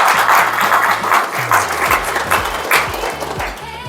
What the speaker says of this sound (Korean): 네, 다시 한번 뜨거운 박수.